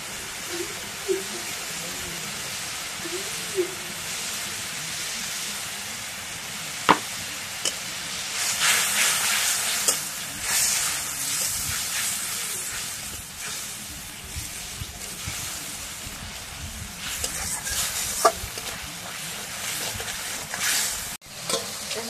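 Spices with cumin paste and garlic sautéing in a pan, a steady soft sizzle with occasional scraping stirs and a few sharp utensil taps, brightening into a louder hiss midway, with faint talk at times.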